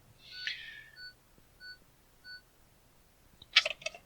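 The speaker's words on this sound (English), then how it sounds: "Stop the alarm" Three short, evenly spaced electronic beeps, faint and alone, bracketed by a soft hoot and a quick chirpy burst.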